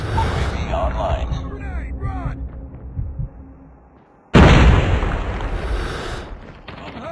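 A grenade goes off in a Call of Duty Mobile match on the Favela map, a sudden loud broadband blast about two-thirds through that follows quieter gunfire and game chatter, then a long rumbling decay.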